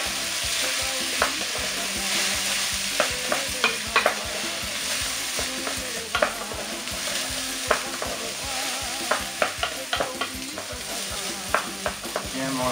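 Rice with spices stirred in a pot for riz zembrocal with potatoes, giving a steady sizzling hiss with repeated scraping and clicking strokes of the spoon throughout, close and fairly loud.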